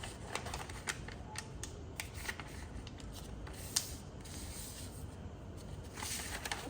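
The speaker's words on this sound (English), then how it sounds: "turn back up to colored side, and just fold it diagonally in half." Colored paper is folded diagonally in half for an origami figure, giving soft, close rustling and faint crisp creasing ticks scattered over a quiet background.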